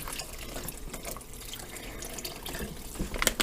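Water running from a tap into a clay pot while cooking a soup, a continuous close splashing trickle with small drips and a slight rise in level near the end, and no talking.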